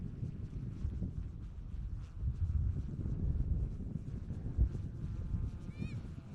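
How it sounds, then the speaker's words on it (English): Gusty wind buffeting the microphone at the Amersham polo grounds during a polo cup final, a steady low rumble that swells and fades throughout, with a faint bird call near the end. "with these windy conditions"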